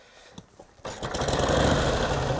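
A 1949 Harley-Davidson Enduro with a 74 cubic inch overhead valve Panhead engine gets kick-started: a few quiet mechanical clicks, then the engine catches abruptly and settles into a loud, close, rumbling idle that builds slightly.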